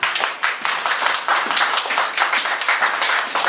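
A church congregation clapping together, loud and close, with a fast rhythmic patter of many hands that starts, pauses briefly, then swells into steady applause.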